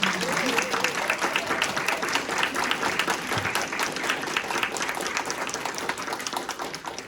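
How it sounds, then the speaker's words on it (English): Audience applause at an annual membership meeting and panel, steady dense clapping across the room that holds evenly throughout, with a voice briefly audible near the start. "could we just give them a round of applause?"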